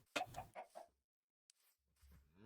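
Chickens in the Minecraft video game give a short burst of clucks, then a pause and a few faint sparse sounds.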